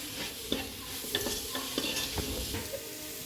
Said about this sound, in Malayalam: ഇനി നമുക്ക് തക്കാളി ഇട്ട് കൊടുക്കാം കേട്ടോ. എന്നിട്ട് ഇളക്കി കൊടുക്കാം.